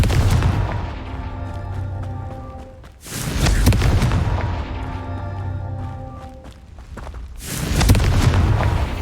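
A Confringo fire spell blasts in the Hogwarts Legacy video game, making loud, booming explosions that strike roughly every few seconds, each decaying into a rumbling roar before the next hit.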